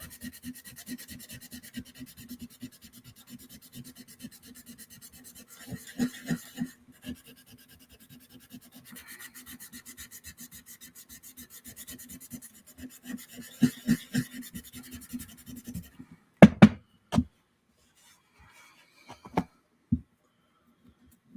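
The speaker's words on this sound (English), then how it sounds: "Now I want to sand this down. Nice and smooth." Sandpaper rubs a painted piece smooth in quick, rhythmic scratchy strokes, steady and close, then a few sharp louder knocks and pauses near the end.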